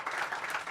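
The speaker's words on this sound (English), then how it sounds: "can we get another round of applause for Super Hubert?" Brief, soft applause from a small audience rises for Super Hubert at a live podcast show, steady clapping heard at a distance.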